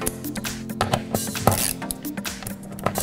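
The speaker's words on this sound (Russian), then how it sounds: "закручиваем получившиеся отверстия болты до упора" M8 bolts are tightened into the plastic drum of an Electrolux, Zanussi or AEG washing machine, giving a close, continuous run of ratcheting clicks and metallic turning sounds with no talk.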